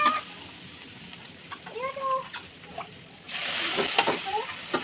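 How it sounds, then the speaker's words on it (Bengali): Water is poured into a pan of frying chili-powder spices while cooking loti. A quiet stretch with a faint voice gives way to a sudden, steady loud sizzling hiss partway through. "তো আমি এখানে পানি দিয়ে দিই।"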